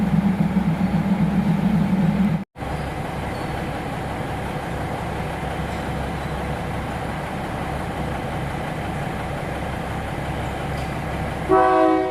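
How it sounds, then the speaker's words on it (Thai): Diesel railcar train at Hua Lamphong station in Bangkok, a loud continuous engine drone and rumble that holds steady for the full twelve seconds, with a brief dropout early on and a higher tone near the end. "ถ้าเป็นรถดีเซลราง ถ้าผู้โดยสารลงหมดก็จะออกไปเลยค่ะ"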